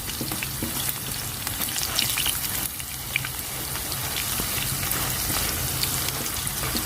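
Homemade chips fry in a pan outdoors in the woods, a dense, continuous crackling sizzle that holds steady and loud throughout, with no talking.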